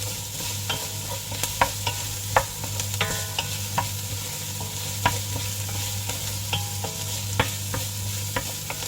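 Bagnet, crispy Ilocano-style fried pork, sautéing in a pan with onion, a steady loud sizzle broken by repeated clicking utensil strikes as it is stirred.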